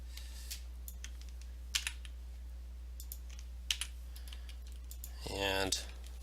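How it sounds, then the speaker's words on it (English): Sparse keystrokes and clicks on a computer keyboard, a few isolated taps under a constant low hum, ending with a brief buzzing burst near the end. "I'm just going to copy that so it's easier for me to type"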